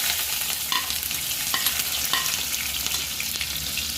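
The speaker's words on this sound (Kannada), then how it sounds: "ಈಗ ಇದಕ್ಕೆ ಎಣ್ಣೆ ಕಾಯ್ದಿದೆ, ಈರುಳ್ಳಿ ಹಾಕ್ಕೊಳ್ತೀನಿ." Onions fry in hot oil in a pan for egg bhurji, giving a steady, close hiss of sizzling with light stirring clicks throughout and no talking.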